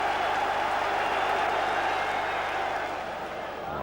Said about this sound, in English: And even the North Bank joins in the applause.